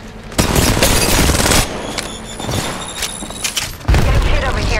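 Gunfire in the battle royale game Apex Legends: loud, continuous bursts of automatic shots with booming impacts, pausing briefly midway before another heavy burst, while a voice talks over the action.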